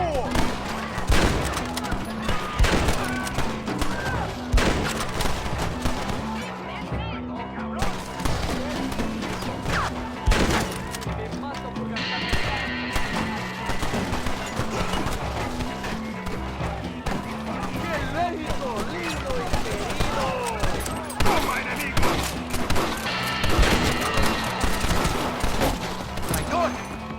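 Repeated gunfire in the Red Dead Redemption western video game, with sharp shots and bursts over a steady game soundtrack and shouting voices across a long firefight.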